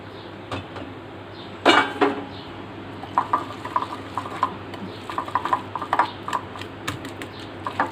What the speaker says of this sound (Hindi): मसालों को हमें मिला लेना है।